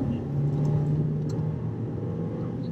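Volkswagen Golf 280 TSI R-Line with a DSG gearbox accelerating on throttle, a steady close engine and road rumble holding a low drone throughout.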